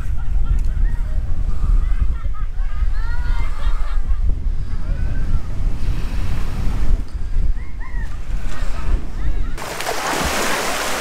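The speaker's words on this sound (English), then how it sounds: "This is what I call a beach." Ocean waves wash in continuously at Haleiwa Alii Beach on Oahu, Hawaii, a loud steady surf roar with wind buffeting the microphone and faint voices of people in the background.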